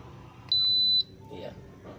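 Control panel on a Hitachi tower fan gives one clear, sustained electronic beep lasting about half a second, followed by faint background noise and a brief soft murmur.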